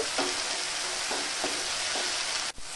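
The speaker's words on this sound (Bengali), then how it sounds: "আদা রসুন বাটা দেওয়ার পর কিছুক্ষণ কষিয়ে নেব" Steady, dense sizzling of ginger-garlic paste frying in a hot pan, with a few soft stirring scrapes and a brief clunk near the end.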